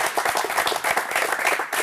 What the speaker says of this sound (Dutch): normaal krijgen die ook een applaus, die basketballers